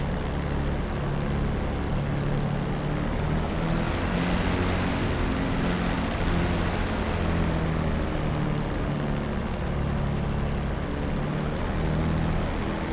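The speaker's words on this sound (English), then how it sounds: "As I'm taking off into the wind." WWII-era propeller fighter taking off into the wind in the DCS World flight simulator, a loud continuous engine drone and prop roar that swells in the middle and then holds steady, with no talking.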